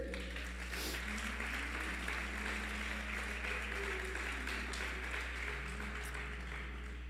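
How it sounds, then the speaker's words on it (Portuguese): A congregation claps during a Portuguese-language church service: continuous, moderately faint applause from a crowded room over a low steady hum, lasting several seconds. "Aleluia, aplauda Ele."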